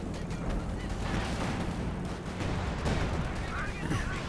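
Pack howitzer artillery fire in a Company of Heroes 2 match, thudding blasts and scattered gunfire layered in a busy, continuous battle din with a few sharper impacts standing out.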